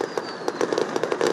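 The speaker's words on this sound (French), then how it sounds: "des feux d'artifice et des pétards à la résonance hypersonique" New Year fireworks and firecrackers go off in a dense, rapid crackling barrage of loud overlapping bangs and pops with no gaps.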